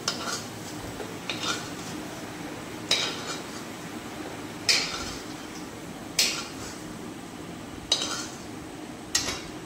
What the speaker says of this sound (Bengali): এবার আমি প্লেটে তুলে নিলাম